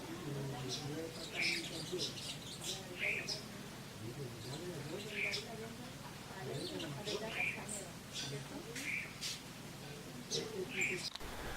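Birds in the Tatacoa Desert, Colombia, give short, bright chirps every second or two from moderate distance over a steady hiss of outdoor background noise, with faint low voices underneath.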